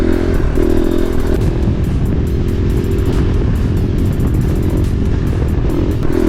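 A KTM dual sport motorcycle rides on gravel, its engine droning steadily and loudly under constant crunching and clatter from the loose stones, with no break.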